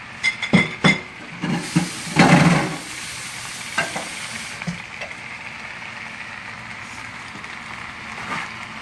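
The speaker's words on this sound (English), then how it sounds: "I'm going to add the tomatoes in now" Tomatoes go into a pot of ratatouille vegetable stew and are stirred with a spoon, a burst of knocking, scraping and sizzling early on, then settling into a quiet simmer with occasional soft clinks.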